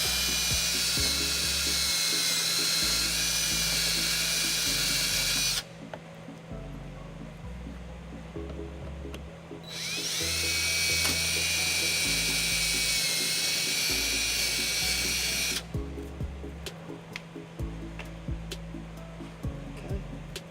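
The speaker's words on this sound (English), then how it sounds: "I'm going to take a drill and using the bracket as a template, I go ahead and just drill some holes right through it" A power drill boring holes through a trailer hitch bracket on a 2014 Hyundai Santa Fe, two long high-pitched whining drilling bursts separated by a quieter pause, with a low rumbling hum underneath.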